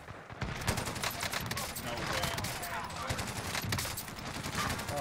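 Dense automatic rifle fire from an assault rifle build in Call of Duty: Cold War Warzone, rapid continuous bursts with loud cracks and echoing booms that fill the whole stretch.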